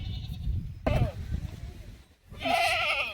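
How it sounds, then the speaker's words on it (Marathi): Goats bleat loudly nearby, several wavering cries in quick succession separated by a short pause, with some background voices. "शेळ्या बकरं बांधायची एवढा टाईम झाला"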